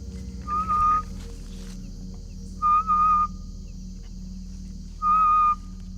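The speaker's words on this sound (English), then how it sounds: "when he whistles that specific note, curious little forest creatures, like the flying squirrel, will come out to investigate" A man in Kakamega Forest, Kenya, whistles a specific note to lure curious forest creatures such as flying squirrels: three short, clear whistled phrases spaced evenly apart over a steady low background hum.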